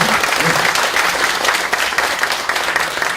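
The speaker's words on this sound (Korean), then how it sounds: "큰 박수 부탁드릴게요" Sustained applause from a lecture audience after a Seoul National University professor's health talk, a dense steady patter of clapping that fills the room without a break.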